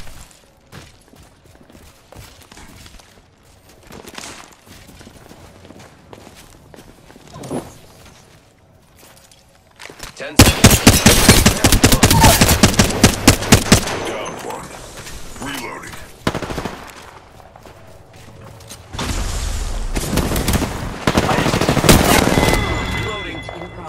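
Video game gunfire in a battle royale match: rapid automatic bursts and sharp shots crackle loudly in dense clusters, separated by quieter stretches of game sounds and in-game voice lines.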